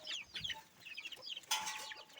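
Hens and small chicks on a farm cluck in soft, scattered bursts, with a louder, sharper run of clucking and peeping near the end, close by and with no talk.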